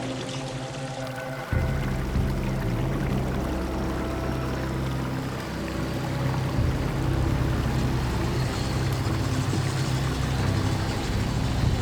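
Heavy truck grinding along a muddy jungle road in Bolivia, a low, steady engine drone with sloshing, watery texture throughout and a louder rumble kicking in after a short, quieter opening.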